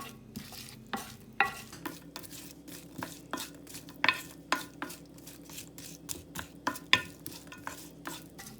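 Spices are stirred in a pan for a salmon and brown rice dish: a rhythmic run of close spoon scrapes and soft taps, about one stroke per second, over a faint sizzle.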